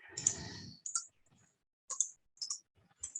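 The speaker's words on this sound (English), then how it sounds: "I'm just going to click each one of these." Mouse clicks while picking objects one by one in 3D modeling software: a handful of sharp, close, separate clicks spaced across the stretch, with a soft rustle at the start and quiet gaps between.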